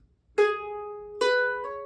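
Guitar crosspicking lick in a bluegrass McReynolds style: a plucked note rings, then a hammer-on to a second note and a quick pull-off, clean and close with no talk.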